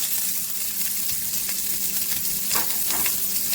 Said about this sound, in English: Then we're going to toss in the onions.